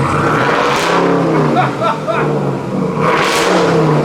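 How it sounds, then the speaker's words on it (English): A RAM TRX pickup truck engine with a new exhaust revs hard several times, loud and close, its exhaust roaring up and falling back between bursts. "Like, go ahead and rev it."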